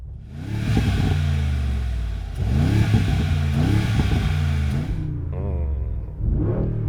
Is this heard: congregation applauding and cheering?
no